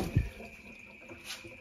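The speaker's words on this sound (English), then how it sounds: "I'm going to put a little bit of water in there." Water poured into a strong chilli jam mixture to dilute it, a soft, faint liquid trickle with a brief thump near the start, then a low steady wash with no talking.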